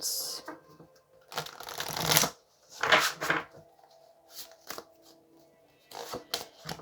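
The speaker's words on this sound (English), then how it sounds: "So let's give this 5 shuffles" Tarot cards are shuffled in several brisk riffling bursts with short pauses between, close and fairly quiet.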